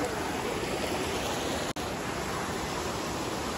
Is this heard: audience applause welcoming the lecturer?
no